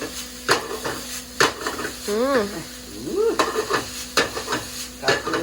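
Yakisoba noodles being stirred and mixed in an IH frying pan, with a utensil scraping and clacking against the pan in a busy rhythm over a steady sizzle, and a few short voiced sounds in between.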